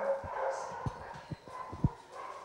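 Dogs at an animal shelter bark and yip in short, scattered bursts, several sharp barks standing out at moderate distance over a busy background murmur.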